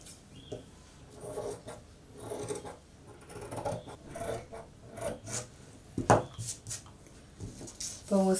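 Scissors rasp steadily through cloth while a 2-to-3-year baby body frock is cut out, with a series of short snips and rubbing strokes, quiet and close, a sharper cut near the end.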